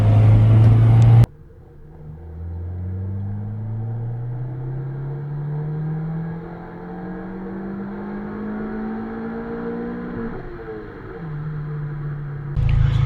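A Honda D16Y8 engine running E85 fuel pulls hard through the gears, its rising tone climbing steadily, dipping at a shift and climbing again, loud and close with no talk over it.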